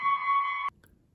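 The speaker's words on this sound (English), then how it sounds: "Excuse me, that's just the fire alarm." A fire alarm sounding indoors, a loud steady electronic buzz-tone that cuts off abruptly after about two-thirds of a second, followed by quiet.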